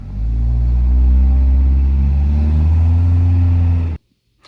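A car's engine drones loud and steady at cruising speed during a mechanic's road test, holding a close, even rumble for about four seconds before cutting off abruptly into near silence.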